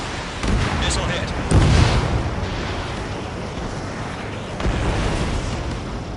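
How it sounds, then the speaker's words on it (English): A missile hit in the combat flight video game Ace Combat 7 sets off a heavy, broad explosion blast around the first two seconds, followed by a rushing roar and a second dull boom later. "Missile hit."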